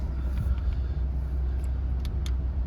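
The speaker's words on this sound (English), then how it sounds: "I'll just start the car up." Audi A4 Avant 3.0 TDI diesel with 98,058 miles idling after start-up, a steady low rumble close by with no talk over it.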